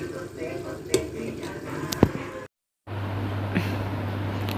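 Curry frying in a home kitchen pan: a steady sizzle with a few sharp utensil clinks and scrapes, briefly cut off by silence, then resuming with a low hum underneath.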